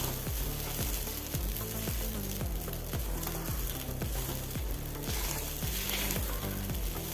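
Sago upma (sabudana khichdi) sizzles steadily in a pan while being stirred, a constant close frying hiss with a soft repeating low thumping underneath and no talking.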